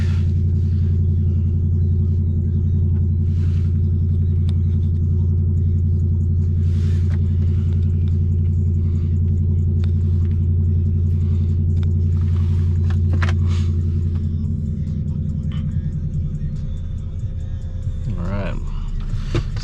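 A manual-transmission car engine idles with a deep steady low rumble that eases as the RPMs settle, heard from inside the cabin, while a person talks intermittently over it.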